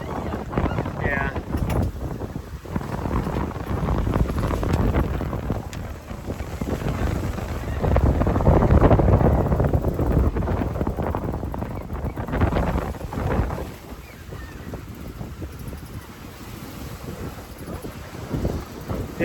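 Strong wind blows across a sailboat at sea off the Portuguese coast, with continuous gusty buffeting and wind noise on the microphone that swells in the middle and eases toward the end.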